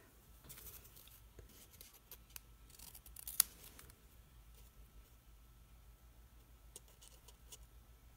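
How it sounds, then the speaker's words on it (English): Metal snips cutting a snowflake ornament, heard as faint, scattered clicks and snips with one sharper snap near the middle, quiet and close against low background noise. "you want to take each and every one of them down with your snips"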